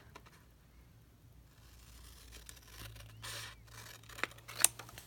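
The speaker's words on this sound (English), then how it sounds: "I'm going to just hand trim this off on the line." Scissors snip by hand along a line, trimming leftover paper from mini boxes; a few quiet cuts and light paper rustles over a low background hum, with sharper snips near the end.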